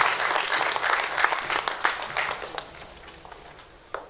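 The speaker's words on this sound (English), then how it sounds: "Let's give them another round of applause as they take their seats" Audience applause at a 2019 tourism symposium on tourism and jobs, a dense wash of many hands clapping that holds steady and then thins and fades toward the end, with a few scattered late claps.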